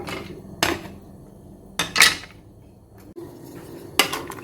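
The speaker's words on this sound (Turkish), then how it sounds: "Çileği kaynatmaya başlayalım. Şöyle üzerine açalım. Bir kaşık çıkarayım. Karıştırayım." A metal spoon clanks against a pot of strawberries being boiled on a stovetop without added water: a few sharp knocks and scrapes separated by quiet pauses, close and clear, with no talking.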